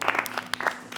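Brief burst of scattered clapping from a small audience, a handful of distinct, close claps over about a second with faint voices underneath.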